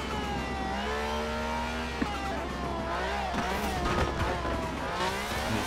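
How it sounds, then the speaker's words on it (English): A V12-engined car in the Forza Horizon 4 racing game revs and accelerates, the engine note climbing and shifting steadily throughout at moderate volume, with a brief click partway through. "it has a V12 engine"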